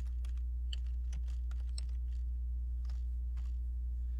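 Quiet keyboard typing: scattered, irregular key clicks over a low electrical hum.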